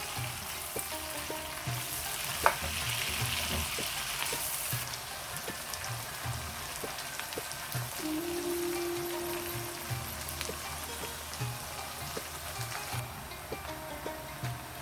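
Okra (bhindi) mixed with salt, chili and turmeric frying in a pan for a dhaba-style masala bhindi, giving a soft, steady sizzle like light rain with occasional stirring scrapes and a brief clink.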